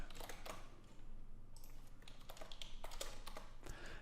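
Fingers tap out code on a computer keyboard in quick, uneven bursts of close, crisp clicks, steady over a low background hum.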